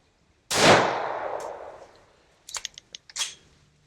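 An FN 502 pistol fires one sharp close shot with a ringing tail, followed by a quick cluster of metallic clicks and clacks and another crack.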